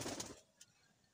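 A young red-eyed pigeon of a strip-flying breed gives a brief, close coo in the first half-second, mixed with rustling, before fading to near silence.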